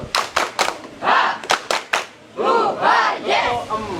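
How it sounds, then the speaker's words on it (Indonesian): A group doing a classroom ice-breaker claps a quick rhythmic pattern of sharp, close claps, then answers with loud shouted chants between the claps. "Untuk berikutnya, tepuk semangat."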